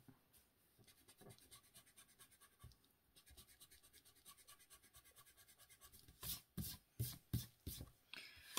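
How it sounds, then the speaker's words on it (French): An eraser rubs out pencil lines on paper in quick, faint, rhythmic scratching strokes nearby, growing into louder, firmer rubs toward the end. "je vais venir gommer quand même parce que sinon ça va pas faire joli"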